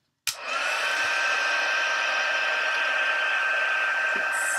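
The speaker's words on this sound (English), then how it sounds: "I'm going to use my tool and dry this a little bit." A handheld heat tool switches on abruptly and blows in a steady, loud, close hiss and whine while drying splattered ink on a card front, with no speech.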